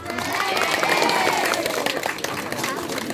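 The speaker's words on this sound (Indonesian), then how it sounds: "tepuk tangan dong" Audience clapping for musicians at a Balinese bondres comedy performance, a dense burst of applause mixed with crowd noise, with voices talking over it.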